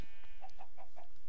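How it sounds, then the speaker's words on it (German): Chickens clucking in Minecraft, a quick series of four evenly spaced, bright clucks close up, with no talk over them. "wie viele Hühner gibt es hier noch?"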